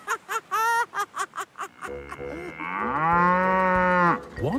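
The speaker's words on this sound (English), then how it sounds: "It sounds more like a cow." Cow mooing in an animated children's Halloween story about steam engines, a long drawn-out low moo rising and falling, preceded by a burst of rapid rhythmic vocal sounds, close and clear.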